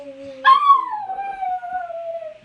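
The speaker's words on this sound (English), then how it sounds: "Beautiful howl on it." A dog gives one long, sustained howl that rises sharply, then glides slowly downward in pitch. It is clear and fairly close, with no talking over it.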